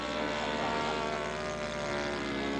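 Scale model aircraft engines run at a scale aircraft show, a steady buzzing propeller drone holding at even loudness throughout, with no voices.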